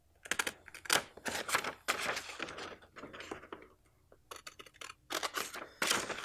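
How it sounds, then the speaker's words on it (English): Scissors cut out a paper spectroscope plan, a close series of crisp snipping and crunching bursts in irregular clusters, with short gaps where the page is repositioned. "So now I'm just going to continue cutting this plan out."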